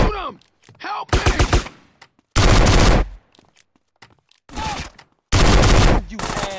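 Loud bursts of rapid automatic gunfire, three long volleys separated by short pauses, with brief voice-like sounds and scattered noises between them.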